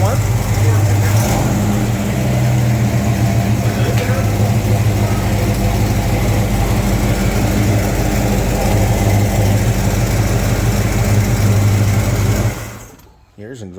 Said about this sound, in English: Here's an exhaust leak on that side.